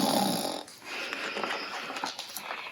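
A voice imitates a bear snoring, one loud raspy snore followed by softer breathy snorts, reading aloud at a children's storytime.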